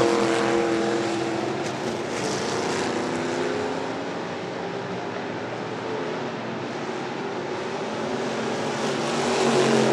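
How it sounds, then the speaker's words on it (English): Stock cars race for the lead on a track, a dense, loud engine roar that holds steady for several seconds with a slight rise at the end, the pack heard together rather than single passes. "Look at this race for the lead right here."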